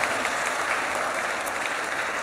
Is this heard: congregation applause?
yes